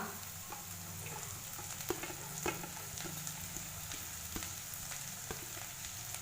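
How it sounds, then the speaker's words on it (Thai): Onions stir-fried in a pan as the base of a potato and peas curry: a continuous hiss and sizzle of hot oil, broken by scattered spatula scrapes and taps, close and steady, with no talking. "จะผัดแบบรวดเดียวจบ ไม่ต้องทอดแล้วเอาออก"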